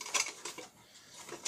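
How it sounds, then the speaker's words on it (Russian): Metal cookware clinks and clatters as a folding set of pots and pans is handled, several bright, close knocks and rattles spread across a short moment with no talk. "как вот это вот наборчик кастрюлек, сковородочек, купленный на Алиэкспрессе"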